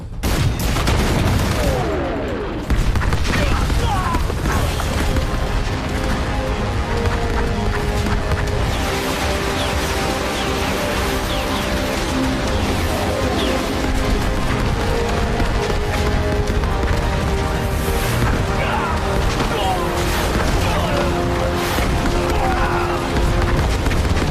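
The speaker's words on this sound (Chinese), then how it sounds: "原射击助援不变，再来一轮火力覆盖！" Artillery barrage and gunfire in a war film crash together in a dense, loud fusillade of overlapping booms and rapid shots that rumbles on without pause for over twenty seconds, with a short lull near the start.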